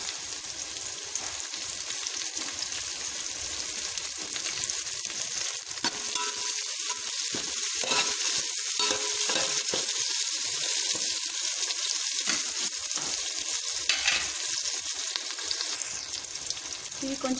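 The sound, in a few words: green chillies frying in a pan for moong dal khichdi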